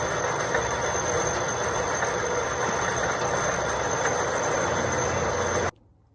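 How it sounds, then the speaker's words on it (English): Lathe boring out an aluminum bar, giving a steady, unbroken machining drone with a faint high whine that cuts off abruptly at the end. "Now we're just gonna go ahead and bore it out, just like the jaws of the vise."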